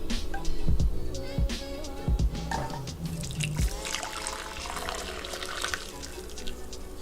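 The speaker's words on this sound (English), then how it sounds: "and then I will just strain this." Hibiscus elderberry tea being strained into a cup, with liquid pouring and trickling through a strainer, a few close clinks and splashes early on, then a steady drip and dribble.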